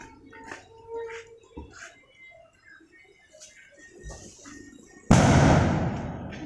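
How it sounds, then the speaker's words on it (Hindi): A rope bomb firecracker set off on a road during Diwali bursts with a sudden loud blast late on, followed by a rushing noisy decay, after quieter moments of faint voices and ambient sounds. "आ वेखो जी रस्सी बम फोड़ दिता मुंडे ने"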